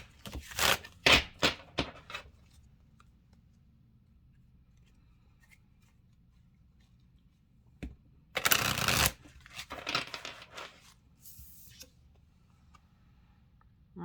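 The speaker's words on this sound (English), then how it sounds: "I always like to shuffle my decks like 6 times at least." Oracle cards from a deck being shuffled in quick riffling bursts, loud and close, with a flurry near the start, a longer louder burst midway and smaller bursts after, separated by quiet gaps.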